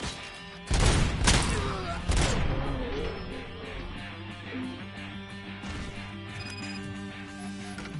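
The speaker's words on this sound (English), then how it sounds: "Did he just throw a grenade in here?" A grenade explosion and gunfire in a PS5 video game, a sudden loud blast followed by scattered thuds and shots that fade into a lingering game soundscape with tonal music.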